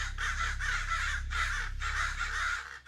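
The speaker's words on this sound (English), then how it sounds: "crows followed him across the sea, always circling above his ship" Several crows caw loudly and repeatedly in harsh bursts, close by, over a low steady rumble, used as a sound effect behind a narrated tale of the pirate Blackbeard and his ship at sea.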